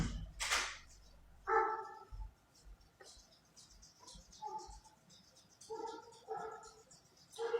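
A dog barks in short bursts outdoors at a rural home, several separate barks spaced over a few seconds, moderately close, with faint birds and insects in the background and no talk.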